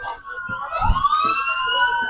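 A siren wails with a rising, sweeping tone that holds steady and fairly loud, with low rumbling underneath.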